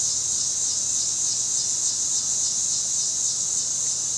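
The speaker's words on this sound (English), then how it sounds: "Those cicadas?" Cicadas buzz in a dense, unbroken high-pitched drone around a parked van, loud and steady throughout with no pauses or other sounds.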